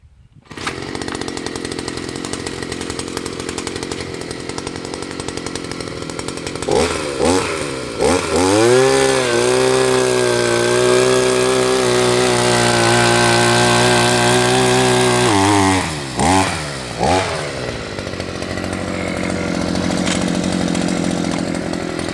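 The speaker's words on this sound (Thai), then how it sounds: "ตัวนี้เป็นเครื่องยนต์2จังหวะนะครับ" A two-stroke engine drones steadily, then revs up and labors as an earth auger bores an 8-inch hole about 1 meter into soil, dropping back to idle near the end.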